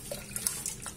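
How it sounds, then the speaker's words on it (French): Water runs softly from a tap while a blender bowl is rinsed, a faint, continuous splashing trickle with small irregular spatters, quiet and without speech. "D'abord, je vais rincer mon bol mixeur"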